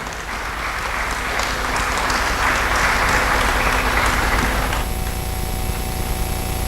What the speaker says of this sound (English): And shall we continue the applause for the current